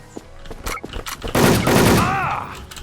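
Gunfire in the Wolfteam video game: scattered single shots early, then a dense loud burst of automatic fire through the middle, with a player's voice talking over parts of it.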